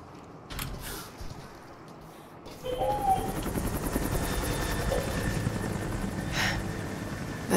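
Helicopter rotor in the video game Rise of the Tomb Raider, a steady rapid chopping whir that grows louder and holds near, with a few sharp clanks over it.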